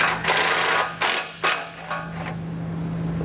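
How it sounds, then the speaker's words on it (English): Ratchet with a 10 millimeter socket loosening a fastener while installing a trailer hitch on a 2021 Chrysler, several quick clicking bursts close by, then a faint steady hum. "We'll take a 10 millimeter socket."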